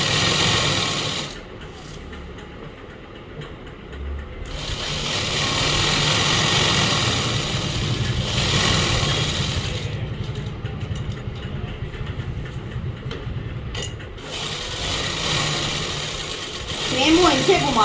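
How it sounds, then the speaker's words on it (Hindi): A sewing machine stitches a kameez in bursts of fast mechanical whirring that rise and fall, double-stitching a seam, with someone talking in between. "सेम वहीं से घुमा लेंगे वापिस मशीन को, और एक पैर का मार्जिन देते हुए डबल सिलाई कर देंगे।"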